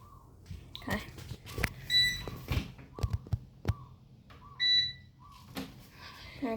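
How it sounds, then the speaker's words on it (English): A Sagamax 7 kg washing machine beeps in short electronic tones at the end of its cycle, repeating several times amid household clatter and faint background noise. "Does beeps every few seconds."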